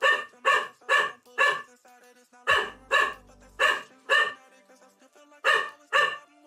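A dog barks close by in a rapid series of about a dozen loud, sharp barks, arranged in quick bursts with short pauses between them. A faint low rumble briefly sits underneath.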